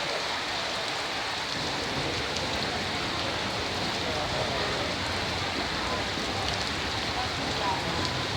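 Heavy rain pours steadily on a day someone gets a first vaccine dose, a dense, constant hiss of drops on surfaces held close and loud throughout, with no clear pauses.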